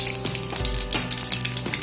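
Nigella seeds tempering in hot mustard oil in a kadai, a steady crackling sizzle with scattered pops and a low rumble underneath, close and continuous with no talk.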